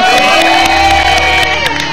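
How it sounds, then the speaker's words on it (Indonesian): A television studio audience welcomes a guest with loud cheering and applause, a dense crowd roar with whoops layered over bright music playing throughout. "Tepuk tangan dong"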